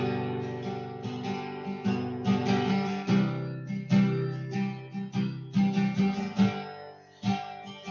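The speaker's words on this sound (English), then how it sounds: "if I'm playing a rhythm on my guitar," Acoustic-sounding guitar strummed through a rhythmic chord progression, steady strokes with regular accents at close range, played alone with no talking.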